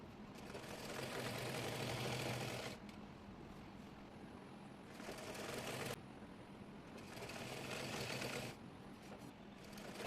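A sewing machine runs a straight side seam on a petticoat, whirring in three separate bursts of stitching with short quiet pauses between them.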